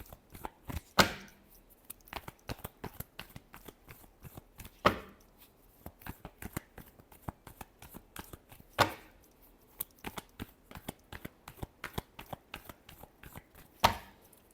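Tarot cards shuffled by hand in a steady run of soft riffling slaps, with a few sharper snaps standing out every few seconds; close and alone with no voices.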